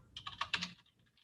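Quick bursts of typing on a computer keyboard, a short run of close, crisp key clicks that trail off into quiet.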